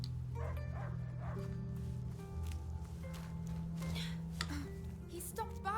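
A dog barking in the video game A Plague Tale: Innocence, with a few muffled, distant barks and yips under a steady game soundtrack drone and ambient noise.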